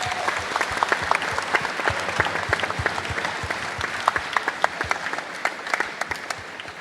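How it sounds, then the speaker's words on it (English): A GAA wellbeing event audience gives organisers a round of applause: moderate, sustained clapping from a modest crowd, individual hand claps distinct and scattered throughout the steady patter. "So just a quick round of applause to them if possible."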